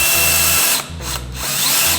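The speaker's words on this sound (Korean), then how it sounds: "스케이트보드 판을 드릴로" A power drill drives into a wooden skateboard deck in loud, close bursts of whining motor noise, stopping and restarting several times within a couple of seconds.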